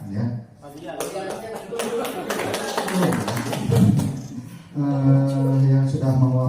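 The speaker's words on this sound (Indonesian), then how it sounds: "beri tepuk tangan dulu kepada Bu Eka" A group claps briefly at a presentation session, a burst of scattered applause fading after a few seconds, mixed with a speaking voice that carries on over and after it.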